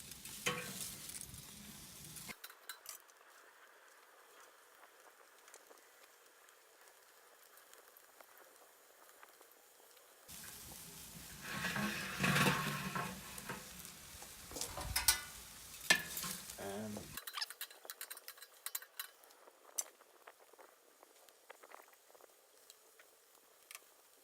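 Thin steaks sear on a grill grate using a cold-grate technique, giving a steady crackling sizzle that swells into louder, busier bursts partway through before settling back down.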